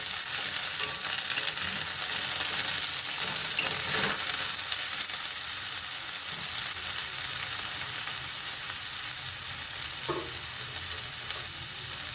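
Pointed gourd (potol) fries in a pan with a steady, even sizzle that holds for the whole stretch, with occasional faint stirring clatter and no voices.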